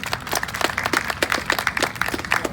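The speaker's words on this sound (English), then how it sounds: "let's give yourselves a round of applause" Crowd applause at an outdoor George Floyd march in Carbondale, Illinois: dense, steady clapping from many hands, fairly close and lively, with no talking over it.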